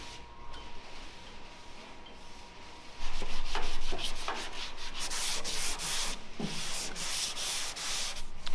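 Hand sanding of truck body panels on an off-road truck, with steady rasping block strokes that start quietly and grow louder and more rhythmic after a few seconds, close and continuous.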